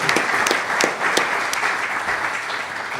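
Applause from the audience at a molecular genealogy conference in Salt Lake City, dense steady clapping with a few sharper individual claps, sustained and fairly near throughout.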